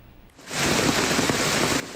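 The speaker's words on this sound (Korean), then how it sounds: "베이징 중심 천안문 광장에 강한 빗줄기와 함께 우박이 쏟아져 내립니다" Heavy rain and hail pour down on Tiananmen Square in central Beijing, a loud dense hiss that surges in suddenly and holds for over a second before easing.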